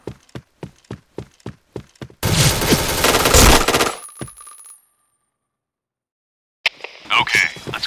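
Gunfire rings out in a Point Blank clan war match: a run of sharp single shots, then a dense, loud burst, a brief silence and another short burst.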